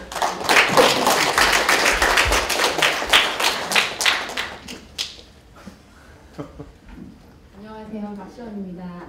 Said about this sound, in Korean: 이 멋진 공적 실천을 그 마치 이돌 스타일에 나오는 아버님과 딸 같은 그걸 전개하신 우리 박 교수님께 박수 한 번